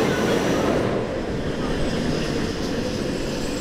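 A floorless B&M roller coaster train at SeaWorld Orlando rumbles loudly into the brake run, a dense continuous roar of wheels and rails, steady throughout without pauses.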